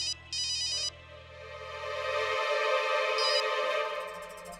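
A telephone rings in a TV drama scene with an electronic ringtone in repeated bursts over a swelling background music score.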